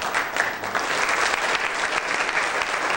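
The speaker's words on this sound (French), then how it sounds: "Il faut applaudir donc cette très belle initiative du gouvernement" A crowd applauds steadily and densely, a continuous wash of many hands clapping, loud and close with no pauses.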